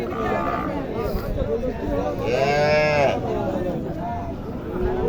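A cow moos loudly in a long drawn-out call midway through, amid a busy crowd's chatter and voices nearby at the Mahadevpur cattle market in Naogaon.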